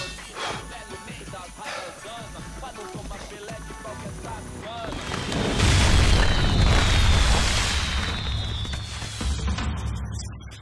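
A deep, rumbling explosion in Max Payne 3 swells up midway and keeps roaring, after a stretch of quieter, busier game sounds.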